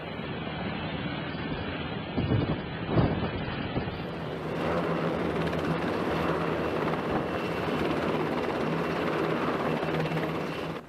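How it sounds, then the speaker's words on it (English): A Sikorsky SH-60 Seahawk helicopter's steady rotor and engine roar, rising after a few seconds into a dense, continuous drone that holds at a moderate distance. "helicopters, like the Sikorsky SH-60 Seahawk"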